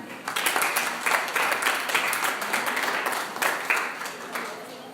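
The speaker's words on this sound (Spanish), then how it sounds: "Denle un aplauso al Señor." Congregation applauding in a church service, a dense, continuous wash of many hands clapping with rhythmic pulses, steady and fairly loud throughout, with voices mixed in.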